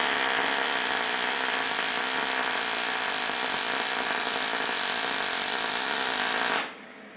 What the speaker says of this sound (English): A little L-shaped tab was made, and it's now being MIG'd onto the plate.